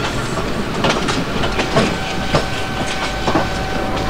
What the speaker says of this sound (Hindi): Bhusawal Katni passenger departing from Raver station